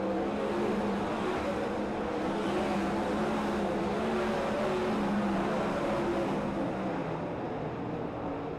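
Race cars howling around the dirt oval at Silver Dollar Speedway during a fair race, a dense roaring wall of engines that holds steady and loud for the whole stretch, with no voices over it.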